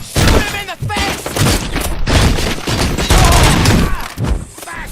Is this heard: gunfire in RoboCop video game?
yes